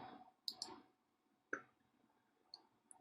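Quiet mouse clicks while working in Cinema 4D, a few sharp separate ticks spread across a few seconds with near silence between them.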